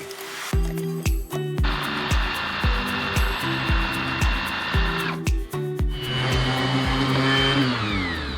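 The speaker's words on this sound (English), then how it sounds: "you keep going there with that sander" Steady whining motor drone of a power sander sanding wood for deck framing, running continuously with rhythmic knocking thumps and scraping underneath, loud and close with no talking.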